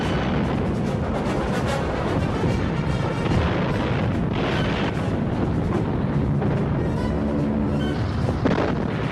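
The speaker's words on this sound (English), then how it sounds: "German counter-bombardment intensified." An artillery bombardment during the Dieppe raid, a dense continuous rumble of booms and blasts layered close together, loud and unbroken throughout, with heavier thuds rising out of the roar.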